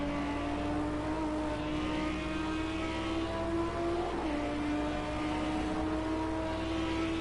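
A GT3 race car at Monza, engine droning steadily and fairly faint at a distance as it runs down a straight, pitch shifting slightly midway, no talk.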